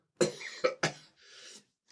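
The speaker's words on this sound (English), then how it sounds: "Cough then. My apologies." Three quick, harsh coughs up close, followed by a softer raspy breath out, then silence.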